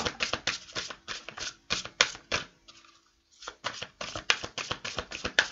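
Tarot cards being shuffled and drawn: a dense run of quick, close papery riffles and taps, a brief pause near the middle, then the fast flicking resumes, with no talk.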